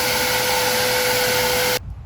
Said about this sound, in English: Now it's time to start vacuuming.